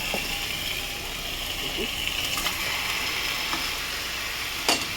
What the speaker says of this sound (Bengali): দিয়ে দিয়ে নাড়াচাড়া করবো, কষবো আর কি।